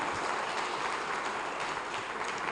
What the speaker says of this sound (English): if you're clapping, clap more,